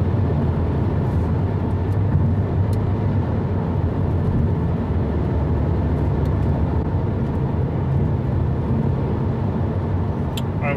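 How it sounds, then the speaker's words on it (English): Inside a Mercedes C-Class coupe on the move, a broad steady rush of wind and road noise fills the cabin with a low rumble that stays loud and constant throughout. "More wind noise in the C-Class coupe than in the A-Class."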